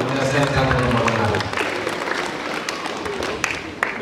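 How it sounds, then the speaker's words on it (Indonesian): A crowd applauds the teachers of MTsN 1 Lombok Tengah at a send-off for an international karate championship squad, with scattered clapping mixed with crowd noise and some talking. "Tepuk tangan untuk semua guru MTSN 1 Lombok Tengah"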